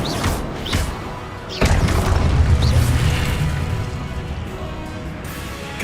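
Confringo blasting spell explosions in Hogwarts Legacy: several sharp, loud booms in quick succession, the last one swelling into a long rumbling blast that slowly fades.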